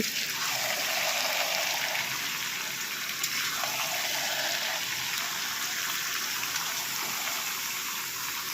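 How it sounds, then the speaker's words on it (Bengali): Chicken pieces sautéing in a pan, a steady, dense sizzle running continuously at close range with no talk over it. "চিকেনগুলোকে ঢেলে দেওয়া হয়ে গেল এখন চিকেনটাকে কষিয়ে নিই"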